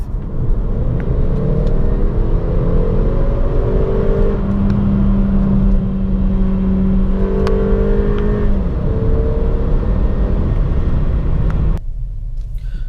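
A 2014 Mercedes-Benz CLA 250 drives and accelerates, its engine note rising and falling through gear changes over a constant loud road and cabin rumble, with no talking.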